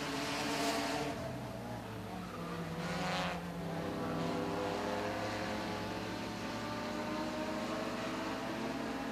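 Race cars roar around a short oval track, engines droning steadily with rising and falling passes as the pack runs down the back straightaway, with no speech.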